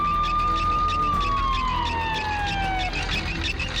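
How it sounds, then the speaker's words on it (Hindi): A wailing ambulance siren sweeping steadily downward in pitch, loud and close, sounding continuously on its own without any talk over it. "हे, एम्बुलेंस, जल्दी आओ।"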